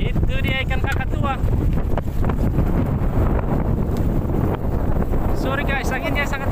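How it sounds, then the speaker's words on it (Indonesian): Strong wind buffets a fishing boat at sea in a loud, continuous roar that fills the whole stretch, with brief tonal whistling near the start and end. "anginnya sangat deras. Deras sekali angin."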